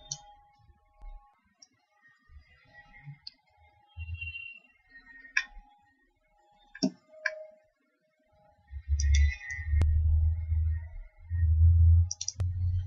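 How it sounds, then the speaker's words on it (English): Computer mouse clicks while selecting a file in motor-testing software, heard as a few sparse, sharp ticks scattered across a quiet room with low rumbling noise toward the end. "Let us now click the plot torque speed button."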